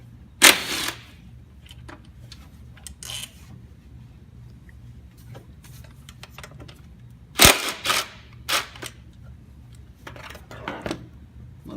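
Nuts and bolts come off the throttle body on a Chevrolet Silverado, with sparse sharp metallic clicks and ratchet clatter over a low engine-bay hum, loudest near the start and middle.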